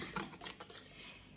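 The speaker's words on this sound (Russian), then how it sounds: "Все это перемешаю" Spoon stirring sugar and flour in a metal stand-mixer bowl while preparing yeast dough for crescent rolls, giving a few quick scraping clinks close by.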